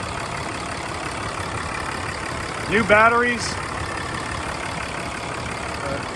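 A 2008 Dodge Ram 2500 STX 4x4 with a 6.7 liter Cummins diesel idles at a steady, even rumble close by, while a voice briefly speaks over it midway.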